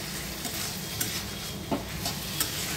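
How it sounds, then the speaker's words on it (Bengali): A spatula stirs and chops snake gourd with shrimp as they fry in a pan, giving a close, steady sizzle broken by a few soft scrapes and knocks. "যতবার নাড়াবো চিচিঙ্গেগুলোকে এইভাবে খুন্তি দিয়ে একটু কেটে কেটে দেবো"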